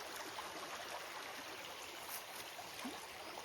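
A forest creek flowing beneath overhanging trees, a steady soft rush of water that holds even and unbroken from start to finish, with no voices.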